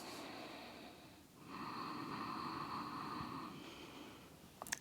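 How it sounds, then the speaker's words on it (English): Slow, audible Ujjayi breaths with a constricted, ocean-like rasp in the throat during a vinyasa yoga flow, one long soft exhale, close and steady. "Constricting the back of the throat to find a Ujjayi breath."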